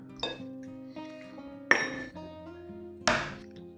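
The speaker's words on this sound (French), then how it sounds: "Une fois que c'est bien mélangé, on va commencer à y mettre les œufs." Eggs go into a mixing bowl while an almond-cream galette filling is made, giving three distinct clinks and knocks spaced about a second apart, each ringing briefly over a steady faint hum.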